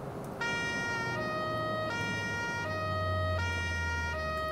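Police siren on a Cherrier FCV sports variant in the driving game BeamNG.Drive, a loud two-tone wail alternating steadily between high and lower pitches over a continuous low engine drone.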